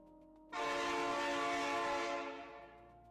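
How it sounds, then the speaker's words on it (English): A loud train horn from the railway game Railroad Inc. sounds as a single sustained blast for about two seconds, starting abruptly and fading out at the end, with nobody speaking over it. "Yeah, so that's a game with trains. Railroad Inc."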